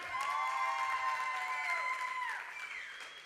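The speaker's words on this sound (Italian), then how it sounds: "io voglio un forte applauso, una forte esclamazione, una forte ovazione per il nostro Winter Camp!" An indoor audience at an Italian church winter camp gathering bursts into sustained applause with scattered cheers, steady and moderately distant, trailing off slightly toward the end.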